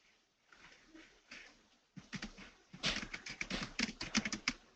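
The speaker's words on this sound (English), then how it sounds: "Yes, I heard you typing." Rapid keyboard typing, clicky keystrokes in quick irregular bursts that grow louder and denser in the second half, with no talking.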